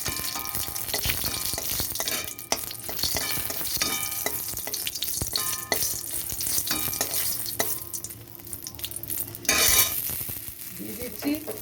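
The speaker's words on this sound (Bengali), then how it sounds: "কড়াইতে তেল দিয়ে দিয়েছি, তেলও গরম হয়ে গেছে। আমি দিয়ে দিচ্ছি একটা" Dried red chilli fries in hot oil in a wok while mango chutney is being made. A steady, close sizzle and crackle runs throughout, with occasional clinks from a spatula against the pan.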